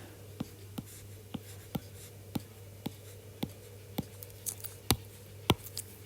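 Pen or pencil writing by hand on paper for a chemistry lesson about electron spin and orbitals: a series of regular, sharp taps and scratches, close and fairly quiet, over a steady low hum, with no talk.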